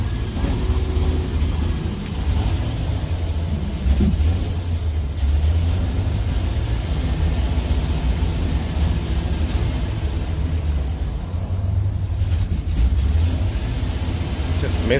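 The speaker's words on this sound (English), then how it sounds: "Just misfiring a lot." A 2003 Chevrolet truck with a 6.0L engine misfiring, a loud low rumbling engine with uneven, stumbling pulses and brief surges throughout, heard close and continuous.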